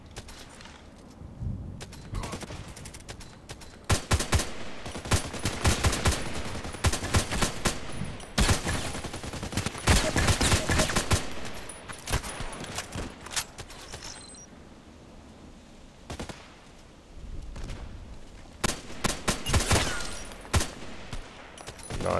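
HK 417D assault rifle firing in a shooting video game, loud close bursts and rapid volleys in several clusters separated by short lulls, with mechanical clicks between; no talking.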